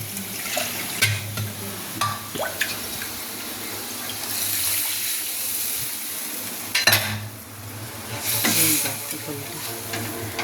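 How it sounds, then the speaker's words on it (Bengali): Broth poured into fried spices in a hot pan makes a steady, close watery rush with sizzling that lasts several seconds, broken by a few clinks and stirring sounds. "এবারে আমি ঝোলটা ঢেলে দিলাম।"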